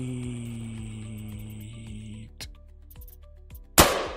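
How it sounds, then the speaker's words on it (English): A single sharp explosion bursts out near the end of a Construction Simulator gameplay scene and decays quickly. Before it, steady in-game tones and a few light knocks play at low level. "An explosion."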